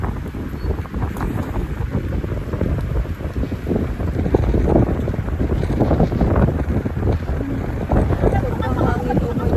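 Strong wind at Mapanuepe Lake in the Philippines buffets the microphone in a constant roaring rumble, with faint voices underneath.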